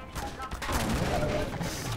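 Gunfire from several weapons in the Half-Life 2 Synergy mod, a dense rattling burst of shots firing together, loud and continuous over roughly two seconds with game ambience beneath.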